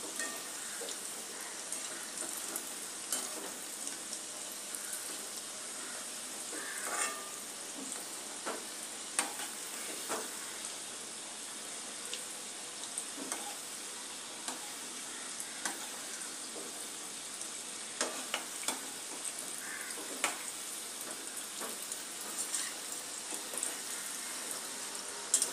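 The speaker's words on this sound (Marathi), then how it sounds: "आता आपल्याला थोडेसे याला शेकून होऊन देऊया, मग याला उलटवूया." Food frying in a hot pan until brown, a steady close sizzle with crackling pops and occasional scraping as pieces are stirred and flipped over, continuing without speech.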